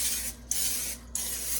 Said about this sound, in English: We're gonna spray them out real good